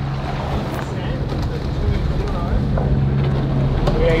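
A sailboat motors at sea with its engine running and head sail up, a steady low engine hum under constant wind and water rush, loud and close.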